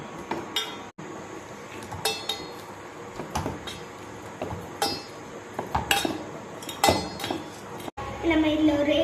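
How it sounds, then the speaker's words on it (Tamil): Bananas being mixed in a bowl for a pancake batter: irregular close clinks and scrapes of a utensil against the bowl, with a voice talking over parts of it. "பனானா ஒரு பாத்திரத்தில் போட்டுட்டு மிக்ஸ் பண்ணலாம்."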